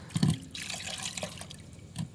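Water poured into a homemade vegetable-based plant tonic mix for a balcony garden, a brief close splash and trickle with a couple of soft liquid plops, no talking.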